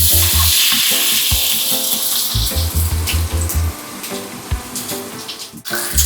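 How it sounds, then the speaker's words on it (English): Loud, steady sizzling of a whole sea bream frying in hot olive oil fills the scene, crackling continuously with some low background tones and no talking. "So we're going to fry this fish until it's thoroughly cooked through"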